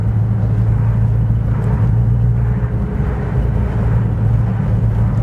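A turbocharged Peugeot 205 GTI engine drones steadily with low rumbling road noise, rising slightly in pitch as the car pulls along, heard from inside the cabin.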